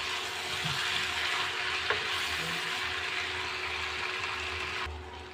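Eggs stirred into chicken pasta in a hot pan: a steady, fairly loud frying hiss with a single sharp utensil tap, easing slightly in the final moment.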